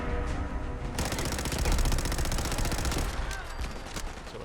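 Rapid automatic gunfire from a makeshift .32 SMG, a handmade Borz submachine gun in Fallout 4, rattles in a loud, dense continuous burst before easing into a few trailing shots near the end.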